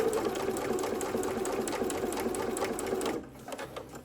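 Sewing machine stitching bias binding onto a child's school satchel, a fast steady mechanical whirr with regular needle ticks, close and continuous for about three seconds before stopping.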